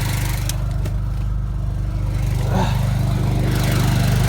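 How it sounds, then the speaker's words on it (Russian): Petrol generator running outdoors in deep cold around -30, a loud steady droning engine hum with a constant low throb, close by and unbroken throughout. "Крутой генератор."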